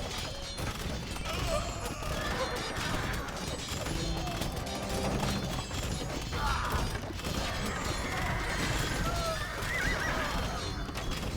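Horses neighing in the Age of Empires II medieval strategy game, several whinnies rising over a busy bed of hoofbeats, clanks and battle noise, with some speech in the background.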